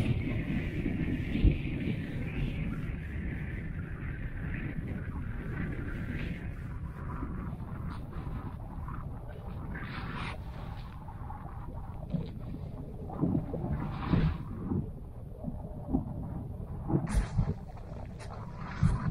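Steady wind blows across a taiga river at a winter burbot-fishing camp with a tent and stove set up over ice holes, a continuous low rushing roar with occasional gusts buffeting the microphone.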